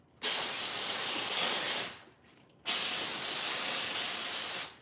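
Two long, loud bursts of hissing spray from a steamer blasting aphids off plants on a tower garden, each about one and a half seconds, separated by a short quiet pause, close to the listener.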